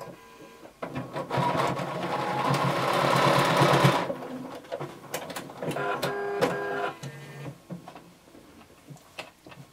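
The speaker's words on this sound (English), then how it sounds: "you're going to sew using a 5/8 of an inch seam allowance" A sewing machine stitches a 5/8-inch seam on a workout-top sleeve, running in a steady loud burst for about three seconds, then in shorter stop-start runs with clicks and handling noises between them.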